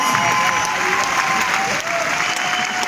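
Audience at a live talk breaking into steady, loud applause, a dense clapping wash that holds throughout with faint voices underneath.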